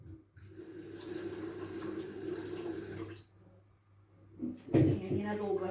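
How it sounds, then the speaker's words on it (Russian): Water pours and splashes steadily as it is drained from a pot of half-cooked rice into a sink, then stops briefly before a louder gush of running water resumes. "Сейчас я солью воду."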